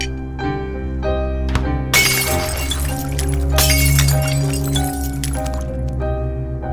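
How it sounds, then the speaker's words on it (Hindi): A glass bottle shatters amid dramatic film score in a dubbed action movie scene, with a sharp crash near two seconds and scattered breaking and clinking of glass continuing over sustained music. "तेरा लाया हुआ बोतल फूट गया।"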